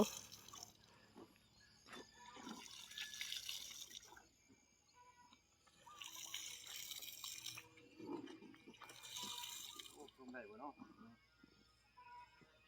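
Water pours in several bursts over freshly planted plants during watering, with quieter gaps between pours and people talking throughout.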